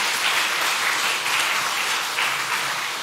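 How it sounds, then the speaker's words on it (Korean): A church congregation applauds the worship team with loud, dense, sustained clapping that fills the room from start to finish. "격려 축복의 박수 한번 해주시기 바랍니다."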